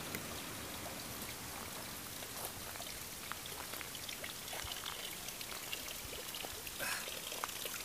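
Water flowing steadily at a mountain spring beside a stream in the Slovak Kassai-havasok (Volovské vrchy), a close, continuous splashing rush with scattered bright drips, heard alone.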